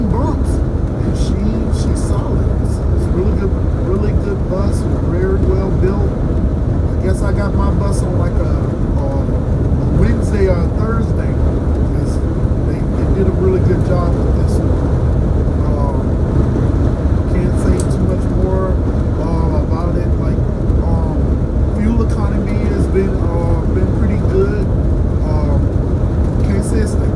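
A bus cruising along a highway, with a steady, even drone of engine and road noise throughout and someone talking over it most of the time.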